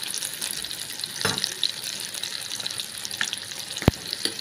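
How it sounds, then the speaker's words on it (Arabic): Oil and ghee heating in a small pot on the stove for béchamel sauce, a steady faint hiss with occasional small pops and clicks, up close and without speech. "معايا على النار حله صغيره فيها زيت وسمنه عشان نعمل البشاميل."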